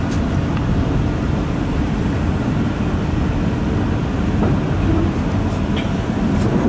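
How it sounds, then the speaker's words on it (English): Inside a V/Line H set carriage pulling into Bacchus Marsh platform, a steady loud rumble and rattle continues without a break, with faint squeaks and clicks over it. "About to pull in on the Bacchus Marsh platform."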